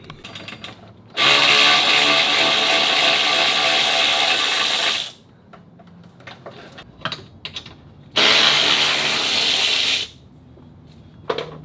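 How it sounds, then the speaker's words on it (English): Power tool work while removing the plastic cover over a Lexus IS transmission pan, two loud sustained whirring bursts of several seconds each, separated by clicks and small mechanical knocks up close. "there's this plastic cover protecting the transmission pan. So we're gonna remove that real fast"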